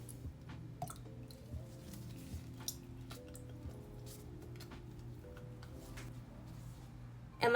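Rose and geranium essential oil is poured from a pipette into a facial serum mix, making faint, scattered drips and small squishy liquid plinks over a quiet indoor hum, with a sharper knock at the very end.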